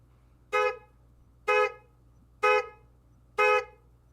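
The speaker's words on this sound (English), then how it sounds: "my car alarm suddenly goes off, echoing through the parking lot" A car alarm in a parking lot blares four evenly spaced, bright honking blasts, each about a fifth of a second long and roughly a second apart, loud over a faint low hum.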